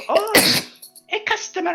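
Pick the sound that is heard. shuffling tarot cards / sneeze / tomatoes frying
sneeze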